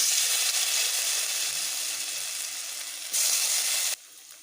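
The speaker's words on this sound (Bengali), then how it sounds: "এবার গরম তেলে ভেজে নেব" Cornflour-coated potatoes fry in hot oil for chilli potato, giving an even hissing sizzle that swells briefly before cutting off abruptly near the end, with no speech.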